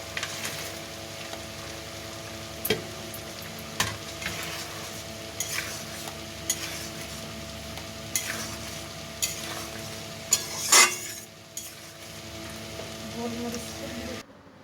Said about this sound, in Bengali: ডিম ভাজাগুলো দিয়ে দেবো।